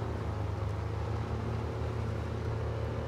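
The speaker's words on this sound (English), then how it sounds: "I love the sound of the engine on it." Truck engine in the SnowRunner video game, running rough and belching black fumes, gives a steady low rumbling drone that holds at a constant level throughout, with no talk over it.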